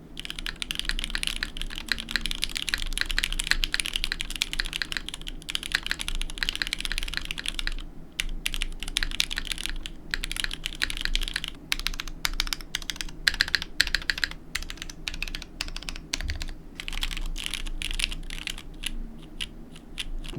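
Someone types on a Void mechanical keyboard with MX Black switches, producing a dense, continuous run of close, crisp key clacks and thocks with a few brief pauses.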